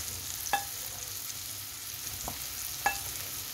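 Mushrooms frying in a little butter give a steady, fairly quiet sizzle, broken by two or three sharp clinks of a utensil against the pan.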